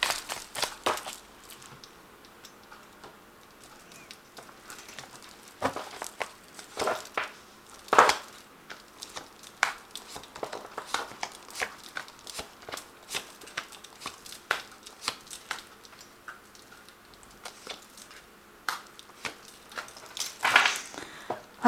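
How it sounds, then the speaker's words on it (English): A Vinci Tarot deck is shuffled by hand, giving soft irregular papery flicks and rustles, quiet and close, spread across the whole stretch. "I have shuffled this deck."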